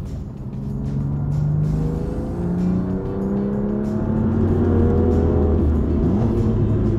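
A BMW M2 Competition's engine drones loudly from inside the car while driving, its tone climbing and dropping through repeated rev sweeps as the car accelerates and shifts, with no talking.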